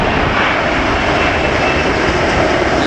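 An airplane coming in to land on the north runway at LAX, Los Angeles Airport, a loud, steady, broadband engine roar filling the whole stretch with no voices.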